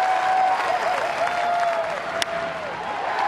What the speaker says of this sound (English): Listen to this crowd. They want him back out.